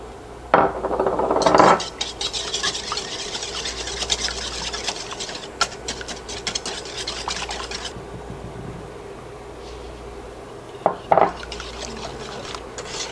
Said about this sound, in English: I'm going to whisk the egg with the sugar.